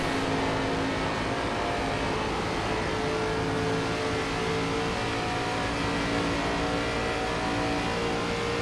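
Race car engines droning steadily in an iRacing ARCA Menards Series race at Atlanta, a continuous close roar with sustained pitch and no voices.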